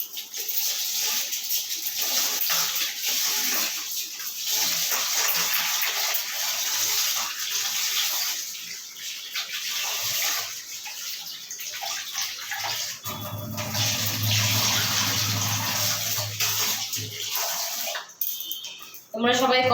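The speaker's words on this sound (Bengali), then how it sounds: "এখন চালটা ধুয়ে নিব" Steady rushing tap water pours over rice being washed for cooking, a loud continuous splash that shifts and deepens partway through, with a voice speaking at times over the flow.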